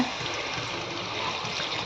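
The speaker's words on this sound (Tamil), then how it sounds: "இந்த கப்பில் வந்து ஃபுல்லாக வந்து தண்ணி ஆட் பண்ணிக்கிறேன்" Water pours steadily from a cup into a pan of capsicum chicken gravy, a brief continuous splashing rush heard up close and alone.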